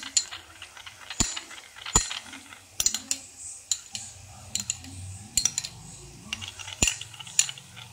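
A utensil stirs soy sauce into pasta in a pan, giving quiet, irregular clinks and scrapes of metal against cookware, with soft clicks and rustles in between.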